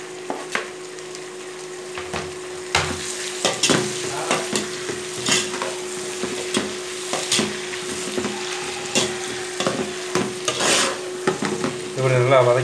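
Onion, tomato and green chilli sauté in a pan with a steady low sizzle. A spoon scrapes and knocks against the pan in rhythmic, repeated strokes, close and clear, with no talking.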